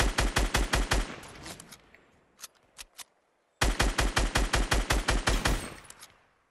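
Rapid automatic gunfire from the video game Fortnite comes in two loud bursts of evenly spaced shots, separated by a few scattered single cracks and a brief silence.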